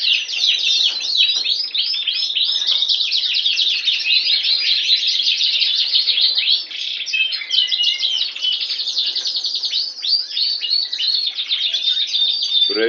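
A green buffcock Border canary, a runner-up at the South Africa national championships, sings a continuous bright warbling song of rapid trills and chirps, close and clear with no talking.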